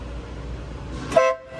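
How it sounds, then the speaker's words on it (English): A single short blast of a Wattman air horn sounds over a low idling rumble, then cuts off. "That's the air horn."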